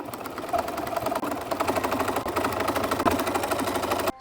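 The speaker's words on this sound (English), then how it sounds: "So we're stitching on top of that seam and the lining." A sewing machine understitching the lining along a seam on a Simplicity S3189 garment, a close, rapid, steady rhythmic needle clatter that runs continuously with slight dips.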